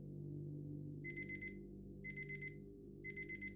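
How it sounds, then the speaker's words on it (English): An alarm clock rings at 7 a.m. in three short bursts of rapid electronic beeping, one each second, over a steady low background hum. "Steve's alarm went off at 7 a.m."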